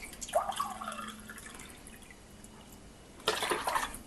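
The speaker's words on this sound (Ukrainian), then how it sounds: "додаю літр водички і ще стаканчик" Water poured from a vessel into a pot while preparing pears with lemon juice, a gurgling trickle at first, then a quieter stretch and a second louder splashing pour near the end, close and with no talk.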